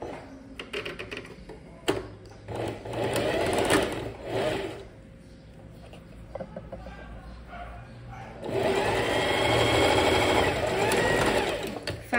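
A sewing machine stitches a seam on a homemade princess-cut blouse, running in several loud bursts with short pauses between, the final stretch long and steady, mixed with handling noises.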